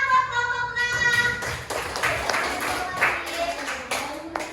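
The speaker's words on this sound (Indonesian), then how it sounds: "tepuk tangan buat kelompok 6" A class clapping for a student group, scattered close handclaps rising as a voice fades out, with uneven sharp claps continuing for a few seconds alongside some talk.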